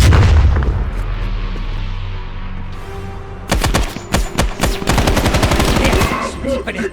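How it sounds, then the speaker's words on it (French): A grenade blast and heavy gunfire in a war-film battle: a low rumbling boom at first, then loud, dense bursts of rapid machine-gun fire with sharp cracks. "Une grenade!"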